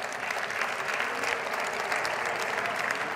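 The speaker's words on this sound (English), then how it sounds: "A big round of applause for our Oslo team" Audience applause at a tech conference innovation showcase, a steady dense clapping from a large crowd that holds evenly loud throughout without any voices.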